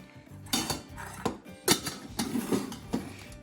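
Large and smaller camping cooking pots for kayak camping being handled and nested together, giving several close metallic clanks and knocks at irregular intervals with no talking.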